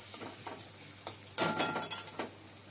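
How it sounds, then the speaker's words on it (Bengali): Chopped onions sizzle in hot oil with a dried red chilli while a spatula stirs them through, for a pointed gourd and prawn head dish; a steady close frying hiss carries scraping strokes that cluster in the middle and later. "পেঁয়াজটা দিয়ে পেঁয়াজটাকে ভালো করে ভেজে নেব।"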